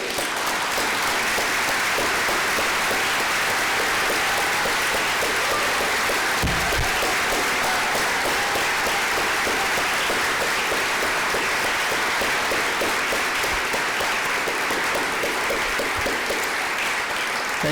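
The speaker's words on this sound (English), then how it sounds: "please stand so we can applaud your achievements" Sustained, even applause from an awards convocation audience honoring college foundation scholarship recipients, loud and continuous for the whole stretch with no pause.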